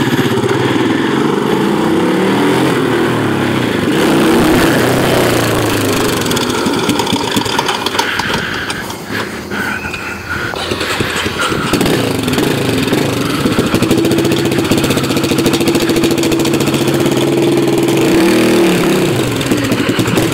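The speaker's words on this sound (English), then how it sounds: "My dad's 2006 Polaris Outlaw" A 2006 Polaris Outlaw 500 ATV engine runs loud and close for the whole stretch, its buzzy drone holding steady with a brief drop in revs midway before climbing back up.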